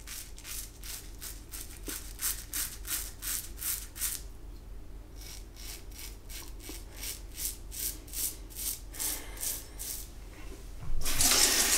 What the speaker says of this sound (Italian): qui abbiamo un risciacquo spettacolare, il rasoio non impasta.